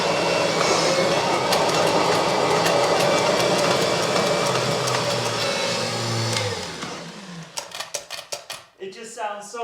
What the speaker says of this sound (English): It just sounds so weird to have pocket change loose in your Kirby.